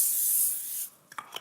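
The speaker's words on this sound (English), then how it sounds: "we need to spray it with a little Pam" A close, steady hiss of Pam cooking spray sprayed onto parchment paper lasts just under a second, then cuts off into a few small papery rubs and taps.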